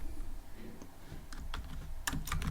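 Code is tapped out on a computer keyboard, with a few scattered keystrokes giving way to a quick cluster of clicks at the end, close-up and quiet with no voice.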